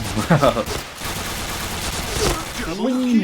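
Rapid gunfire bursts in the shooter video game Point Blank, crackling over a busy game soundscape, with a short tonal effect near the end.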